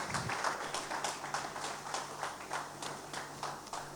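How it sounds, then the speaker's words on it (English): Applause from an audience at a beer-and-burgers economic outlook debate event, a steady even wash of many hands clapping that fills the whole stretch at moderate level with no voices on top. "Let's give them another round of applause."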